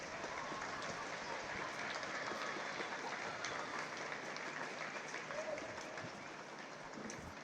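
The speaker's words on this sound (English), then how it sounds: "a round of applause for them too" Sustained crowd applause for the coaches at the U21 Senior Championship Gaelic football final between Pearse Óg and Culloville, a dense, even roar of clapping that eases slightly toward the end.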